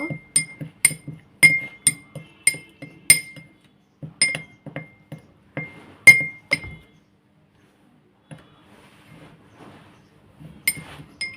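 Chili powder, salt and black salt being mixed for homemade potato chips, heard as sharp glassy clinks in quick rhythmic bursts separated by short pauses.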